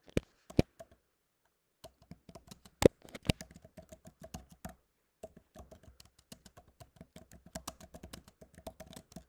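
Keys on a computer keyboard tapped in quick, uneven bursts, faint and close, with a few sharper clicks and short pauses between runs of typing.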